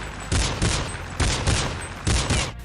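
Dual pistols in Counter-Strike 1.6 fire in quick paired bursts, about eight sharp close shots grouped in twos with brief pauses between pairs.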